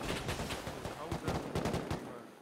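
Gunfire crackles through a hectic raid in the survival game Rust, with dense, rapid volleys of shots layered continuously across the whole moment, some near and sharp and others more distant, as excited players call out in the background.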